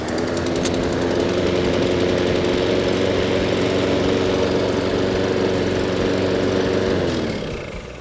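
A Cobra M46SPC petrol lawn mower engine runs close and loud, with a steady rattling drone that winds down in pitch at the end, and no one speaking.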